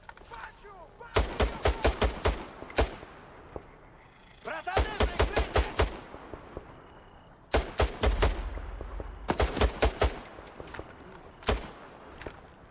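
Repeated bursts of rapid automatic gunfire in S.T.A.L.K.E.R. 2, loud close volleys broken by short pauses, with scattered single shots toward the end.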